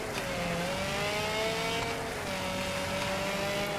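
Race car engines in Wreckfest drone and whine together at steady high revs, with rising pitch sweeps as they accelerate through a race, continuous and fairly loud with no talk.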